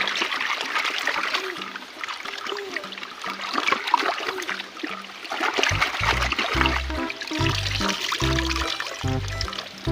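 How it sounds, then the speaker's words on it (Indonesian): A small stream flows outdoors, with water trickling and splashing steadily throughout. Deeper, rhythmic low thumps join in the second half. "Kakak berhasil menemukan sungai kecil ya."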